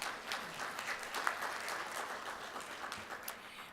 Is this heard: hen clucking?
no